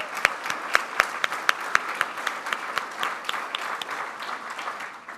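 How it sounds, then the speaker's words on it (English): An audience at a mayoral forum applauds the mayor, a few sharp individual claps at first, then merging into a steady, moderate round of applause that fades slightly toward the end. "Big round of applause"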